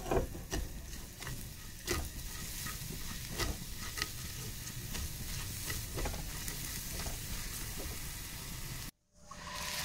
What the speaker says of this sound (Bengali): এখন আমি পিৎজায় দেওয়ার জন্য পিৎজা সস তৈরি করব, তাই এখানে কিছু পেঁয়াজ কুচি দিয়ে দিলাম।